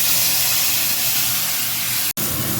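Tomatoes hit hot tempering oil with curry leaves for palak khichdi, giving a loud, continuous close-up sizzle and hiss that breaks off for a moment near the end.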